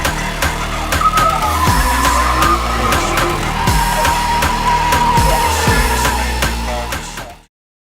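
A Nissan Skyline R33 GTS sedan with an RB25 engine drifting, loud continuous tire squeal and skidding over revving engine pulses, close and sustained for about seven seconds before cutting off.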